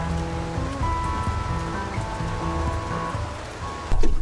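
Squall rain drums on an anchored sailboat, a dense, close patter of drops on deck and surfaces that holds steady for a few seconds with no voices.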